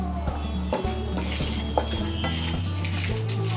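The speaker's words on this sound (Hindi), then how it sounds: "हमें कम से कम 5 से 7 मिनट इस मसाले को अच्छी तरह भून लेना है।" A spice masala for bisi bele bath is roasted and stirred in a metal pan. A spoon scrapes and clinks against the pan in quick, irregular strokes, heard close and fairly quiet.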